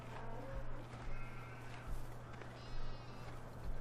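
Lambs bleating in the video game Farming Simulator 2013, with several short, wavering bleats repeating over a steady low farm-ambience hum.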